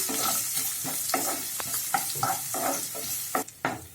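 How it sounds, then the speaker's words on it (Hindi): Finely chopped onion sautéing in a pan, stirred repeatedly, giving a steady close sizzle broken by irregular scraping strokes, with no talking. "वो प्याज डाल देते हैं और इसको चलाते हुए हम भून लेंगे"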